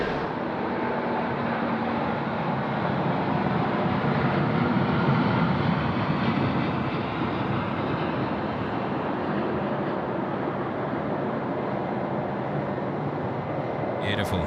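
A Singapore Airlines Airbus A350 departs Sydney Airport with a steady, broad jet roar. The sound stays loud and sustained for the whole stretch, heard from a distance across the field.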